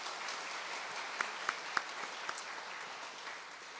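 A church congregation at a Sunday Lent service claps together in blessing and encouragement, steady moderate applause with a few sharper individual claps standing out.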